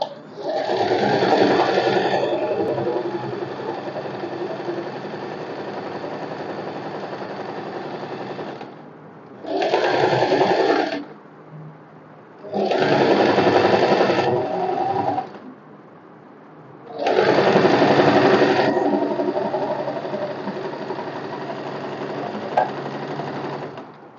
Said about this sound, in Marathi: तर मी आता स्टिच करून घेते.